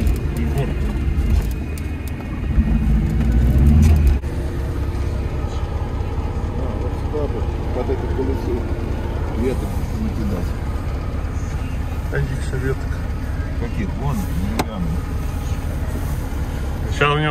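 A Moskvich 407 stuck in a pit with an overheated clutch, its engine droning loud and steady with uneven revving, while people talk close by throughout.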